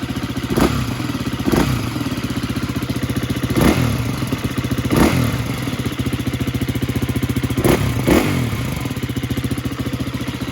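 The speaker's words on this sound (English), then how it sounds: "let's go ahead and give it a couple of twists of the throttle" 2020 KTM 350 EXC-F four-stroke dirt bike with its stock exhaust, idling with a fast chattering pulse and given several short, sharp throttle blips at intervals, recorded close up with no talking.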